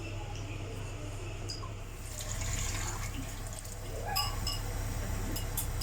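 Food lowered into water in a cooking pot for akoumé: soft sloshing and splashing over a steady low hum, with a brief clink near the end.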